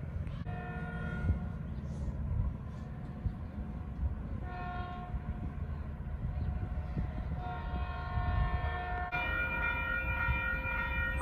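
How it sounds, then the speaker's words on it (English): An eastbound Metrolink commuter train pulls into the Upland–Montclair area station bound for San Bernardino downtown, with a steady low rumble and repeated horn blasts sounding close and loud throughout. "here comes Eastbound Metro on 312 San Bernardino downtown"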